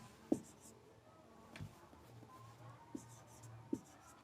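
Chalk or marker strikes a board during a physics lesson on Gauss's law, giving a few faint, sparse taps and short scratches spread over several seconds against a quiet room hum, with no talking.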